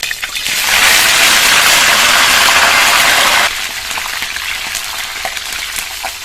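Curry leaves hit hot oil in a pan with a sudden loud, bright sizzle that holds steady for a few seconds, then drops to a quieter crackle with small pops.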